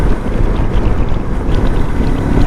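A Lifan KPT 400 motorcycle fitted with a 43-tooth rear sprocket runs while being ridden. Its loud, close engine roar is heavily mixed with constant wind buffeting on the microphone.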